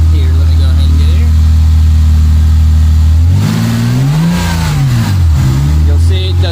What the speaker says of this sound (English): Now look how smooth this engine is idling, and if I give it a little bit of gas